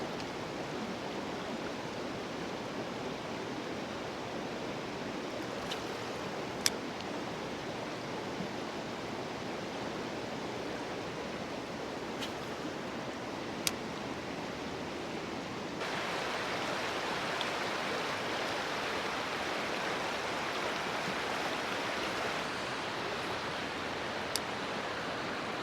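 Moving water at a trout fishing spot rushes steadily in a broad, hissing wash close by, with a few faint clicks and a slight rise in intensity partway through.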